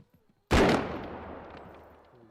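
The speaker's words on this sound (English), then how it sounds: "I think this is a rifle." A single rifle shot in the video game BodyCam rings out loud and sharp, then a long reverberant tail slowly fades over about two seconds.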